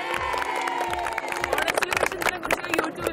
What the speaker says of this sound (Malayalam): ഒന്നും ഒരു ആരവം വരട്ടെ ഇങ്ങോട്ട്, ഒന്ന് കൈയടിക്ക എല്ലാരും കൂടി